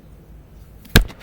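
A homemade play-doh popper gives one sharp, loud pop near the end, alone after a quiet lead-in.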